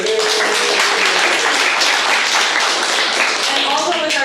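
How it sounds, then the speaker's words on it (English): A room of VIPs and family members at a domino event gives a round of applause, loud and dense throughout, with cheering and voices mixed into the continuous clapping. "Round of applause for yourselves."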